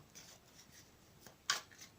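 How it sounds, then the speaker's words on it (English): Tarot cards, a Radiant Rider Waite deck, being shuffled by hand: a quiet series of soft riffling, rubbing flicks ending in one sharper snap, close by with no talk. "So I've already pre-shuffled the cards, but I'll shuffle them again for you on camera."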